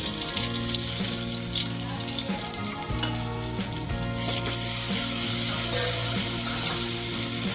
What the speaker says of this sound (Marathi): तर सर्वप्रथम आपण यामध्ये जिरे मोहरी टाकून घेऊन मी तेल बरोबर गरम केलेलं आहे